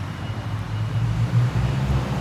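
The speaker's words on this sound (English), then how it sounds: "The truck is making noise." A truck engine drones as a low, steady rumble, close and fairly loud, holding constant for a couple of seconds with no talk over it.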